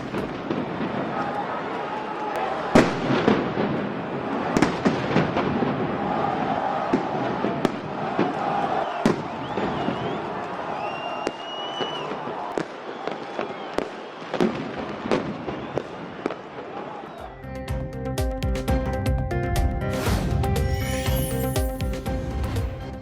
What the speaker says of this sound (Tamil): போலீஸ்காரர்களை நோக்கி பெட்ரோல் குண்டுகளை சரமாரியாக வீசிய போராட்டக்காரர்கள்